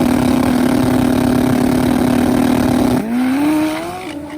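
Turbo Kawasaki KZ drag racing motorcycle and Top Fuel nitro Harley at full throttle on a drag strip: a loud, sustained engine roar that drops and then climbs back up in pitch as the bike spins the tire and accelerates away.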